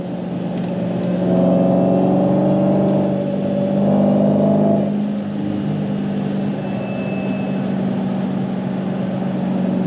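A manual Dodge Challenger Hellcat V8 accelerates while driving, a steady low engine drone with a rising, revving surge in the middle, heard from inside the car with no talking.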